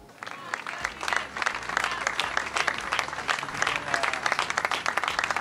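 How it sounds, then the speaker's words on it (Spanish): A crowd applauds Artur Mas as he arrives at the Convergència headquarters: dense, sustained clapping from many hands, loud and continuous, with a low rumble of crowd noise underneath. "aplausos a la llegada de Artur Mas"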